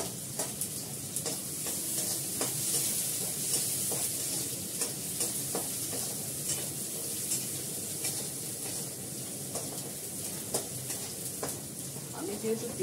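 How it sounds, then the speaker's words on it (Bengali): Onion tempering in hot oil sizzles in a pan with a constant bright hiss, broken by light scraping and clicking as the pan is stirred, with faint talk in the background. "আমি যেহেতু পেঁয়াজ ফোড়ন দিয়েছি"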